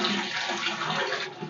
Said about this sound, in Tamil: ஸோ மோட்டர் போடும்போது வந்து சவுண்டு அதனுடைய ஃபோர்ஸு எப்படி இருக்கு நீங்களே பாருங்கள்.